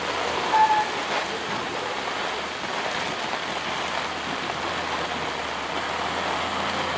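Heavy rain and strong wind sweep over a landslide area in a dense, continuous roar of pouring water with gusty rushing, steady and close, with no voices.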